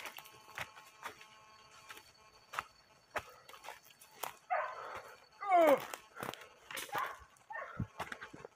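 Hunting dogs bark and yelp repeatedly during an armadillo hunt outdoors, sharp barks scattered across the clip with a louder cluster in the middle, some at a distance and some close.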